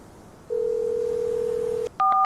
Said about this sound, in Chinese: 江川，怎么今天有空给我打电话？